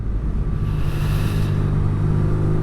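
A 2019/20 BMW R nineT motorcycle engine runs close by, holding a steady, loud low rumble with a throbbing undertone for a few seconds, with no voices.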